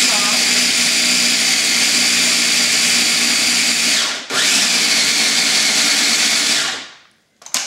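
A blender whirs loud and steady as it purees a thick green salsa verde, with a brief dip partway through before the motor winds down and stops near the end.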